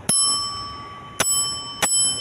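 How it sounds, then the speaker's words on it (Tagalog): Bell on a vintage 39cc motorbike rings three separate times, each a sharp bright ding with a lingering metallic tone, close and loud over a low background hum. "The bell."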